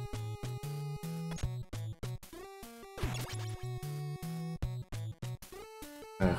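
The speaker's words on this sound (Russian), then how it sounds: "вот звуки нынчаков что-то мне напоминает Road Rush" Nunchaku attack sounds from the NES game Teenage Mutant Ninja Turtles, quick chiptune swishes and hits chopped across busy 8-bit game music, dense and continuous, with no talking.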